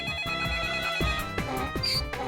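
A telephone rings with bright, repeated electronic chiming tones over a busy background of music-like sounds, moderately loud and without speech.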